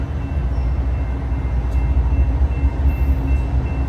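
A Union Pacific freight train passes close by at Oakland Jack London Square. Heavy rumbling and a steady clatter of wagons on the rails go on without a break, and a few faint higher squeals rise above them.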